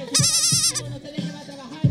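A human voice imitates a goat's bleat in one long, wavering, nasal cry, close and clear, followed by a few softer vocal sounds.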